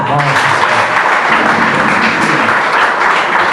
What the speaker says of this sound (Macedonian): Аплауз еден.